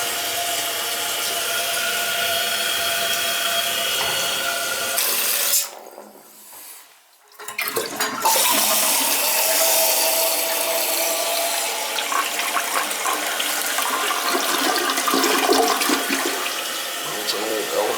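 An old Elja toilet flushes loudly up close with a rushing gurgle, a short quiet dip midway as the water drains, then the tank refilling with a strong steady hiss.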